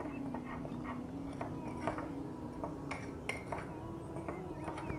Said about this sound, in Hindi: अब इन सब ड्राई इंग्रेडिएंट्स को अच्छी तरीके से मिक्स कर लेंगे